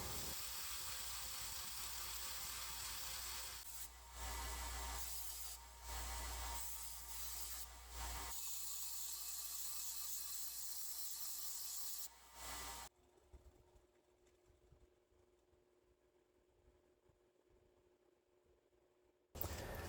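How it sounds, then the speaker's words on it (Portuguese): A bench grinder shapes the softened steel tip of a wood punch, a loud, harsh grinding roar with brief dips for about thirteen seconds, then drops to a faint hum as the grinding stops. "vou usar o motoesmeril para fazer a usinagem da ponta, para formar a ponta do punção"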